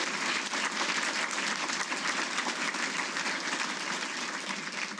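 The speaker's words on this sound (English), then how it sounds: "Let's give him a round of applause." An audience at a DLA Hall of Fame ceremony claps in sustained, dense applause, a steady wash of many hands that holds evenly at moderate loudness for the full stretch.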